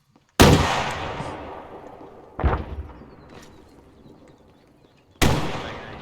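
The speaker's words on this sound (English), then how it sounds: "Are we just banging AT rockets trying to get ranges down or what?" Anti-tank rockets fired on a military training range: three loud, sharp blasts, each followed by a long rumbling decay, spaced a few seconds apart with no talking.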